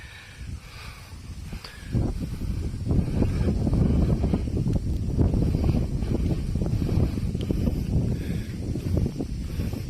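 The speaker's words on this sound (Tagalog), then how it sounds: "napakaganda ng simoy ng hangin" Strong wind gusts roar and buffet the microphone outdoors in Tayabas, Quezon, with a view of Mount Banahaw, rising and falling continuously, with faint rustling underneath.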